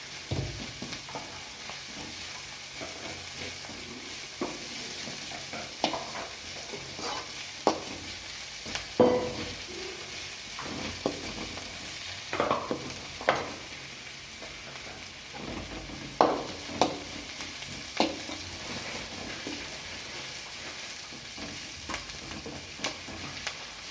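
Adai dosa batter being mixed with coriander leaves, a spoon or hand scraping and stirring through thick batter in a bowl with scattered soft clicks and taps, close and fairly quiet, no talking.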